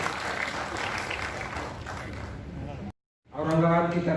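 A crowd in a hall applauds at an award ceremony honoring COVID-19 workers, with dense, continuous clapping, followed by a brief silence and then a voice speaking.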